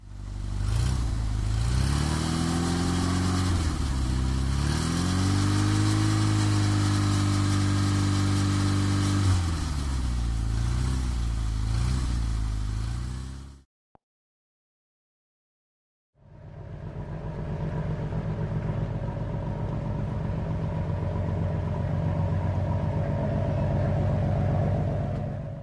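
A car engine hums and revs steadily, cuts off into a couple of seconds of silence, then resumes running at a steady idle.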